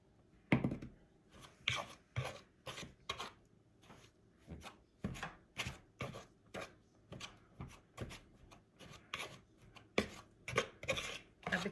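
A blending fork mixes ingredients for chicken and dumplings in a bowl, giving soft, rhythmic scraping and pressing strokes about twice a second, close and fairly quiet, with no talking.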